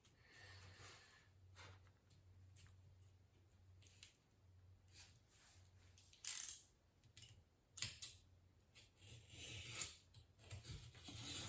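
Foam board being cut with a blade to remove a tab, a quiet run of scraping and snipping strokes with a few sharper crackling snaps, close by with a low steady hum underneath.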